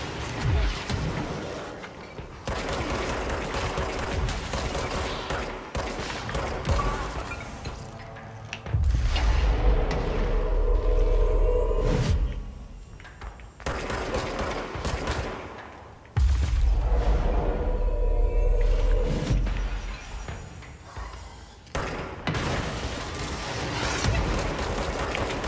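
Rockets fired in a video game in the Oldest House, heavy booming launches and rumbling blasts in long loud bursts with deep thuds, dense and continuous.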